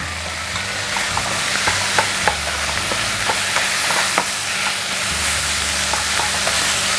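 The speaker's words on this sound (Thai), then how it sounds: "ตอนที่เราผัดพริกแกงเขียวหวานกับเนื้อไก่เราใช้ไฟปานกลางนะคะ" Steady sizzling in a hot pan over medium heat as green curry paste is stir-fried with chicken, with scraping stirs and small clacks of a utensil, close and continuous, no voices.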